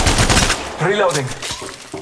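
Gunfire in Apex Legends Mobile, a quick rattling burst of shots at the start followed by scattered impacts, with a character's voice speaking over the action.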